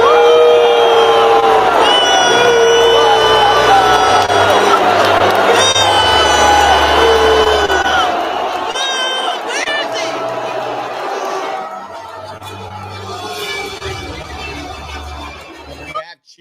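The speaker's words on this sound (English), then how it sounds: "This is the booing and everything that was going on." A large political crowd reacting loudly to a president, a dense roar of voices with shouts and whoops that stays full for several seconds before thinning, with the sustained tones of a band or announcer running through it.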